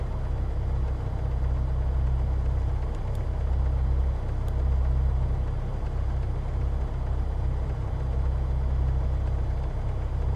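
A Diamond DA40 light aircraft engine idles in Microsoft Flight Simulator, a steady, unbroken low drone at even loudness throughout.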